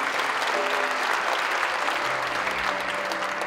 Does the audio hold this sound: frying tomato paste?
no